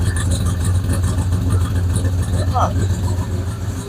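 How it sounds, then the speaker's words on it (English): A hemi Plymouth Duster engine running close and steady with a low, rumbling idle, its alternator making a faulty noise, while a person gives a short murmur. "Is that alternator making noises?"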